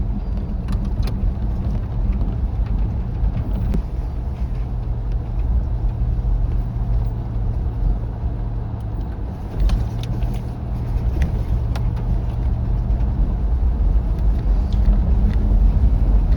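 A 4WD descends a steep track near Lake William Hovell in the Victorian High Country, engine braking in second gear low range. The engine makes a steady low drone with a constant rumble, close and continuous, and no one speaks.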